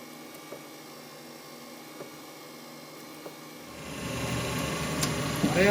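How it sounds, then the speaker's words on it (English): A lathe facing and boring an engine pulley for a six-cycle engine: a steady mechanical hum that swells into louder machining noise about midway, with cutting squeals, close by and without speech. "So now we're going to face it off and bore the hole through it."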